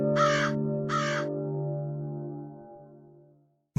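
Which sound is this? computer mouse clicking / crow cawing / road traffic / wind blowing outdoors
crow cawing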